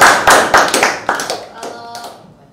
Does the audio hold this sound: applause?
yes